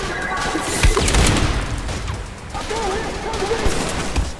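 A grenade detonates in the shooter game Trepang2, a loud booming blast with crashing debris and gunfire-like bursts, followed by further rumbling impacts amid busy game noise.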